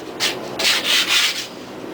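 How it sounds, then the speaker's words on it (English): Sandpaper scrubs an old wrought iron yard sign post in four distinct rasping strokes, each a brisk, gritty swish close by, with short pauses between and no speech. "you can either use sandpaper, you know, to"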